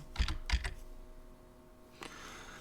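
A few quick keyboard keystrokes clatter close by, then a pause and one more tap, in a quiet room.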